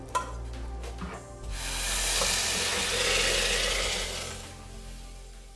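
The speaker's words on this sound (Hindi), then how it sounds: "चूल्हा बंद करते हैं और इनको छान लेते हैं।" Boiled noodles are drained through a sieve set over a pot, giving a broad splashing, hissing rush of pouring water that swells after a few soft clinks and holds for several seconds before easing off.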